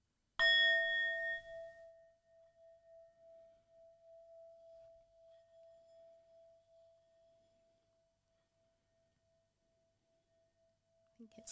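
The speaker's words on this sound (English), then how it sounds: "Should we gong? Yes. Let's gong. Here's a little sound bath." A gong struck once for a sound bath, a bright metallic hit that settles into one long steady ringing tone and fades slowly over about ten seconds, alone and close.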